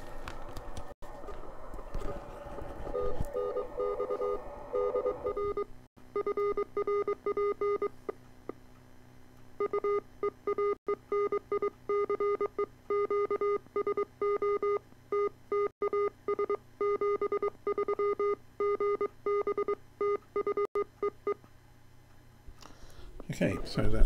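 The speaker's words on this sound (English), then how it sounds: "Is basically reproducing the CW on the speaker, so you don't have to listen to all that noise and QSB and stuff." Morse code CW plays as clean keyed tones through an audio filter on a loudspeaker, steady dots and dashes repeating over a noisy radio background, with a brief noisy stretch before the keying starts.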